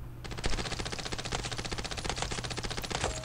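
Sustained rapid automatic gunfire from a rifle in the mobile shooter Standoff 2, a dense continuous burst of loud, closely spaced shots running from start to finish.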